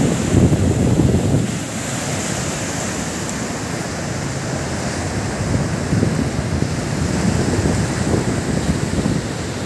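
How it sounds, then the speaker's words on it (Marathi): A vast open sea sends waves crashing and washing in a continuous loud surf roar, mixed with gusty wind buffeting the microphone, with no talk. "हा आहे बघा विशाल असा समुद्र"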